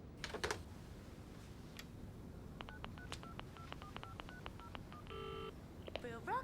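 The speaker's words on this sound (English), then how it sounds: "Would you mind if we use the phone, Mr. Lindsley?" A telephone number is keyed in on a landline phone during a police drama scene: a quick run of about a dozen short DTMF beeps following a couple of brief clicks, set over a quiet room background.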